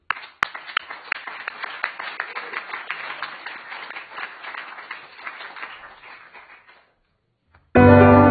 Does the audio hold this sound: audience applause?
yes